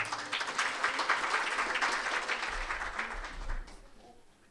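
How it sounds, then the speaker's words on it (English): An audience at a conference opening session claps in sustained applause that fills the space, then thins out and fades toward the end. "With a round of applause, everybody."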